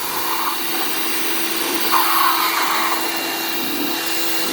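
WHOLESUN 3000PSI electric pressure washer spraying through its widest tip, a steady loud hissing whine with a brief surge partway through, no talking.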